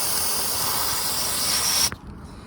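A can of cleaner hisses steadily as it sprays onto a Vanos solenoid from a 2008 BMW 535i 3.0, a loud close burst lasting about two seconds before cutting off abruptly.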